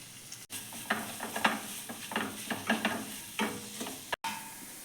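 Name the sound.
frying curry leaves, shallots, garlic and onion in pan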